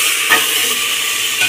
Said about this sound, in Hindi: गाजर, सहजन, आलू, टमाटर, सभी को डालकर भून लेते हैं।